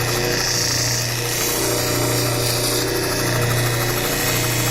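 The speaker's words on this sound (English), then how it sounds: "this final step here is a 3000 grit sanding wheel" A 3000 grit sanding wheel polishing a cabochon stone gives a steady, loud motor hum with a constant low drone and a bright grinding hiss, running unbroken and close throughout.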